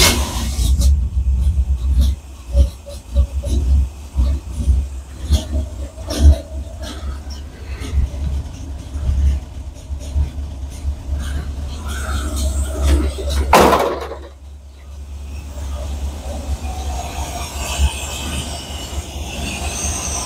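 A square body Chevy hotrod engine cranks with steady low rumbling and repeated starter pulses, then a sharp burst near the end before settling into a quieter idle-like hum.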